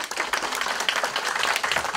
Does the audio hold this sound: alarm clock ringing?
no